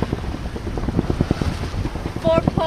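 Wind rushes and buffets the microphone aboard a sailboat under a reefed mainsail heading upwind in the Florida Keys, a loud steady roar with low gusty thumps and water noise, while a brief voice sounds near the end.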